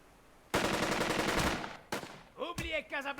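Rapid machine-gun fire in the Burden of Command World War II strategy game, a loud, dense burst of shots lasting about a second, then another short burst, followed by voices talking.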